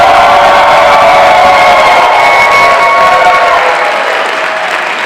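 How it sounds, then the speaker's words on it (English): A Comic-Con panel audience at San Diego roars with loud, sustained applause and cheering, a thick unbroken wall of hands and whoops that holds steady for five seconds and eases only slightly at the end. "Let's all give them a big round of applause."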